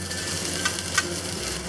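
Okra sears in a hot pan in a steady, close sizzle that holds for the whole stretch, with a couple of faint clicks partway through and no talking.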